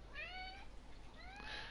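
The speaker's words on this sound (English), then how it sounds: "Meow." A cat meowing in the video game Nier Automata, two clear rising-and-falling meows, near and alone over a faint steady background hum.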